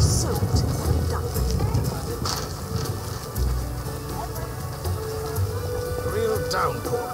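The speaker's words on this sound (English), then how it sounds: "Real downpour." Heavy rain pours down in a dense, steady, broadband hiss that stays loud and unbroken throughout, with a few scattered louder spatters.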